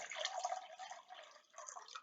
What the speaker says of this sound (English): So now I'm going to pour this water into this measuring jug.